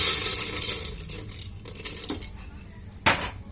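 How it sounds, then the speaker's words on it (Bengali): Dry corn kernels tipped into a pan over medium heat with salt and a little sugar for sweet popcorn, giving a brief clinking rattle near 2 seconds and a sharper, louder spill of kernels just after 3 seconds over low kitchen background. "এখন দিয়ে দিব ভুট্টা।"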